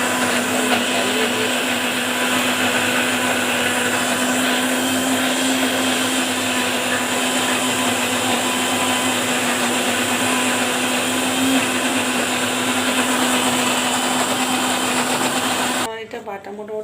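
A mixer grinder whirring continuously as it grinds vegetables with a little water, a loud steady motor drone with a high whine that cuts off abruptly near the end.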